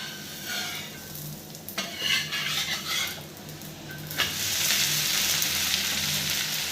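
An onion uttapam made with karuppu kavuni rice sizzles on a hot pan while a spatula scrapes and flips it, with quiet frying hiss swelling louder after the turn.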